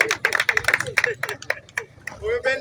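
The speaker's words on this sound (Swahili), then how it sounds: "Makofi kwa timu pinzani Mafisi FC." A short burst of applause for the opposing football team Mafisi FC, with quick, uneven hand claps close by, loud at first and then thinning out.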